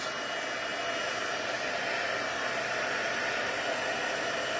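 A heat tool warms embossing powder from the back of the paper with a steady, even blowing hiss that runs at constant loudness throughout, with no talk.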